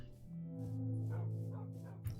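Several dogs bark in a Minecraft game world, a few short yips close together near the start, then a steady tonal in-game drone holds underneath until a brief final bark.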